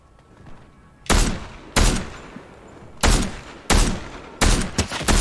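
Gunfire in the Fortnite video game: five loud, heavy shots or short bursts spaced roughly a second apart, each with a booming tail, close and without speech.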